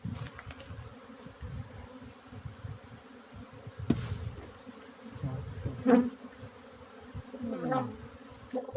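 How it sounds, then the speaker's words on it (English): A steady buzzing hum of many honey bees, some carrying pollen, close by at a hive on a Texas ranch, with individual bees droning past. "You can see the bees with the pollen"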